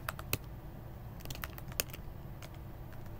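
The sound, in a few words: typing code on a computer keyboard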